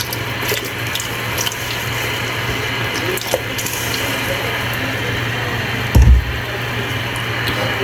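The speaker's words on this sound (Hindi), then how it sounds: "आप देखिए इसमें उबाल आने लगा है" Water with green chilies and vinegar comes to a low boil in a cooking pot for beef tikka biryani, giving a soft steady bubbling and hiss with a low hum and a brief clunk near the end.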